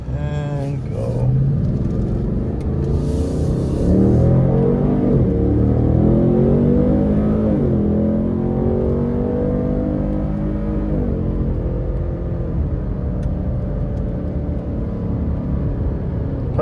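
A 2024 Ford Mustang GT with a 10-speed gearbox accelerates onto a highway, its engine note rising and swelling into a steady rumble heard from inside the cabin, with a voice talking over it for much of the stretch.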